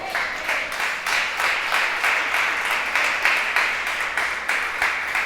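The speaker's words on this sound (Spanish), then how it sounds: "Vamos a darle fuerte el aplauso al Señor" A church congregation claps, rhythmic and moderately loud, for about five seconds in a steady pattern, fairly near, without voices over it.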